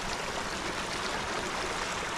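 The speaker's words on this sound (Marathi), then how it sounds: "हे पाण्याचं वाहन बघा" A stream flows over stones in open nature, making a steady, close, even rushing of water with no breaks and no voices.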